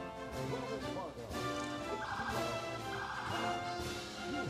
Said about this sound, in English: It's that riderless horse